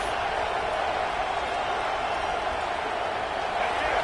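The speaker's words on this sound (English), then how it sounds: "This crowd bringing the energy and noise early." Stadium crowd noise from a college football video game forms a steady, dense roar, even in level throughout, with no distinct voices standing out.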